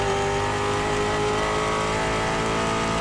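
Onboard a Ford Mustang Trans Am race car at Thunderhill, the engine screams loud and constant at high revs, a dense sustained roar that stays pinned near the top with no pause or voices.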